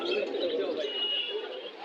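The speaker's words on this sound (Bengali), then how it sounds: "খুব সুন্দর কবুতর" Pigeons coo softly nearby at the Aati Bazar pigeon market in Bangladesh, a continuous throaty murmur with a few faint chirps mixed in.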